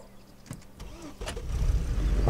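Military vehicle in a multiplayer war game starting up and creeping forward, a low engine rumble that swells louder toward the end after a few mechanical clicks and clunks, fairly quiet overall.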